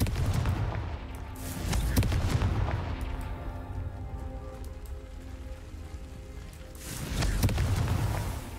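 Confringo explosive spell in Hogwarts Legacy: two bursty blasts, one near the start and one near the end, over a steady rain-like crackling background, moderately loud.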